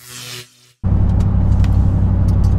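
A car fully loaded with furniture in a trailer rolls along the rough A81 motorway, a loud, close, steady road rumble and tyre roar that cuts in abruptly after a short quieter stretch and a moment of silence.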